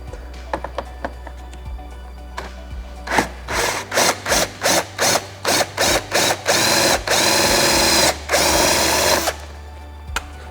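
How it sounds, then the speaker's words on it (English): A 3/8-inch drill bit bores out a hole on a Subaru WRX front end to fit a riv nut. The close, loud whine comes in a run of about nine short bursts with brief pauses between them, then one longer steady burst. "you're going to need to use a 3/8" drill bit or a 10mm drill bit, just to extend the size of the hole"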